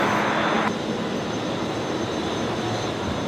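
An Emirates airliner taxiing at Brisbane Airport at night after rain, a steady loud jet engine roar with a constant broadband whine, unbroken and fairly close throughout.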